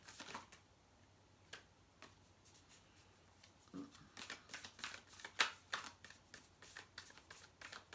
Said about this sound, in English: So while I'm shuffling the cards